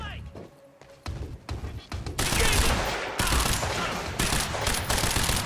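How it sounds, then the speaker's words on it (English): Light machine gun fire in the game Quantum Break: sparse thuds at first, then sustained loud bursts of rapid automatic shots rattling close by, with a voice talking underneath. "there's still a light machine gun"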